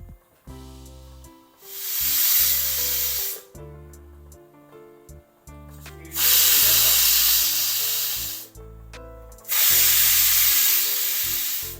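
A pressure cooker cooking dal vents steam in three loud hissing bursts, separated by quieter stretches with a low musical tone underneath.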